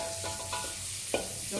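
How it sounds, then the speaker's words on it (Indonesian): Garlic and bird's eye chilies frying in a pan for butter prawns, a steady sizzle with scraping stirs of a utensil, close by and without speech. "So ni masukkan bawang putih, cili padi dan apa tu"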